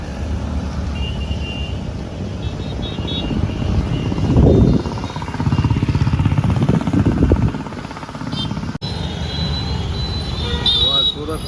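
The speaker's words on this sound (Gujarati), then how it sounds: "સુરતમાં વરાછા રોડનું ટ્રાફિક છે." Steady evening road traffic on Varachha Road in Surat during on-and-off rain, a continuous roar of engines and tyres with horn toots and a passing heavier vehicle swelling midway, people talking faintly over it.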